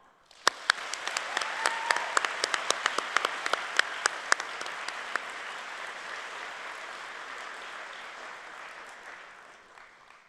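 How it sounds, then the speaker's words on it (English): Audience members at an AmeriCorps graduation ceremony break into applause. A few sharp, distinct claps open it, then the clapping swells into a sustained wash that slowly fades away at the end. "let's have a big round of applause for everybody who has made service part of their lives and inspired us all"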